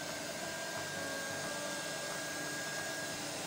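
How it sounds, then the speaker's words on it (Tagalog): A blower runs continuously while drying a freshly printed temporary plate, giving a steady, close, whooshing airflow with a faint motor whine throughout and no talking. "Ang pag-cure ko dito, magamit ako ng blower."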